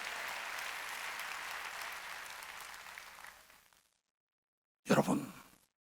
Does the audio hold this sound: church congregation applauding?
yes